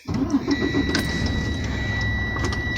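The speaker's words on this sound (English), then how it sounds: "start the truck up" A tractor-trailer truck's engine cranks and catches, then settles into a steady idle, heard close from inside the cab.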